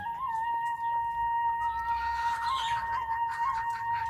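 Elba x KUB crossbreed hens cluck softly in a coop among a few nearby bird calls, over a steady high electrical whine and low background hum.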